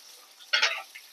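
Garlic cloves and green chillies dropped into hot oil for a tempering, made while preparing a ridge gourd and carrot chutney, burst into a sudden loud sizzle that fades after a moment.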